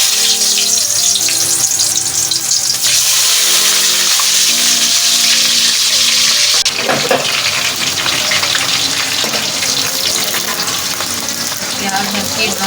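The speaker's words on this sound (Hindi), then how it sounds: "तेल हमारा गरम हो चुका है। अब इसमें हम प्याज डालें।" Chopped onions hit hot oil in a pan for an aloo gobi gosht, setting off a loud, continuous sizzle and frying crackle. Cooking clatter and an occasional voice sit under it, and the sound stays steady throughout.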